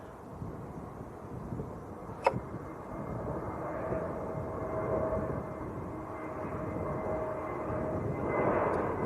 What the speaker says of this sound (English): Jet2 A321 Neo just touching down.